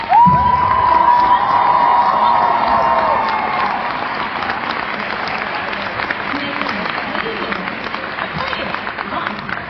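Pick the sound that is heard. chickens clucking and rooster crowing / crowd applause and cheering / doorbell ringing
crowd applause and cheering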